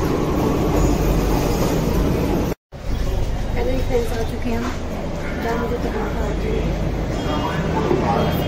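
Metro train noise at a station platform, a steady broadband rumble of rail cars with a brief cut partway through, running under continuous nearby talk.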